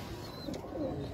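Pigeons coo softly on a Karachi rooftop, a faint, low burbling call heard briefly and alone.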